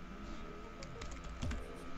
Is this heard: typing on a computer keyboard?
yes